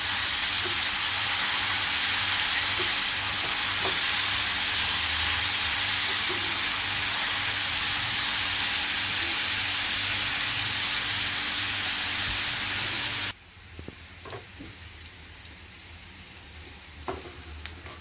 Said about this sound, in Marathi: चांगला परतायचा कांदा आपल्याला